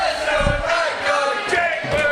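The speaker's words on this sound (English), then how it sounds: "The crowd are ruckus here." An indoor wrestling crowd at a HOPE show roars and cheers, a dense, loud wall of shouting voices with rising swells of yelling throughout the short burst.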